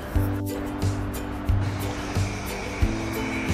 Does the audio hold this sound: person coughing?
no